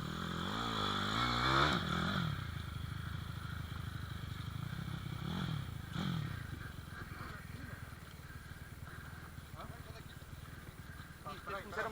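A pit bike motorcycle being moved, with an engine revving briefly at the start, then a low idle rumble mixed with clattering and scraping as it is shifted into place, while people talk nearby.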